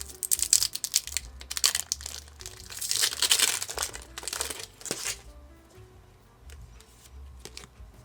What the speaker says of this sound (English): These are proving really hard to open, even if I'm just like tearing them.